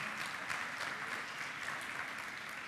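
Steady applause from a church congregation during a family worship service, a dense continuous wash of many hands clapping at moderate distance with no break.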